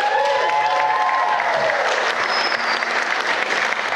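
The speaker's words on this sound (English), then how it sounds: "can we just give a massive round of applause for how stunning she looks today." Wedding guests applauding loudly and steadily at a reception, a thick wash of clapping with some cheering and voices mixed in throughout.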